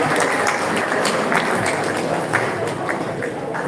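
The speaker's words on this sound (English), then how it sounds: "So with a round of applause, let's welcome the first to the stage." An audience at a Web3 talk applauds to welcome a speaker to the stage, a steady wash of clapping that fills the whole few seconds.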